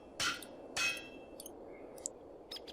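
Hammer smashing blocks in a Minecraft modpack, two bright metallic clanging hits close together followed by fainter small clinks.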